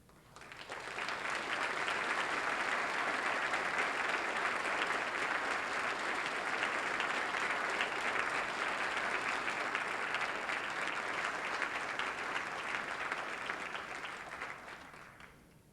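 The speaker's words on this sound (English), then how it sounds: "we would like you to hold your applause until the end of each degree" Sustained audience applause fills a hall at a 1993 fall university convocation, rising quickly into a dense, even wash of many hands clapping for about fifteen seconds before tapering off.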